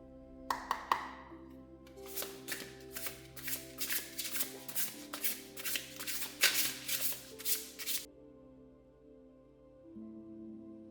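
Tarot cards being shuffled by hand in a quiet room: a few sharp snaps, then a long run of rapid riffling bursts that stop abruptly, leaving near silence.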